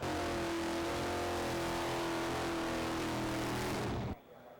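A loud drag racing car engine revs indoors in a collision repair classroom with a sustained roar and rising pitch, then cuts off abruptly near the end.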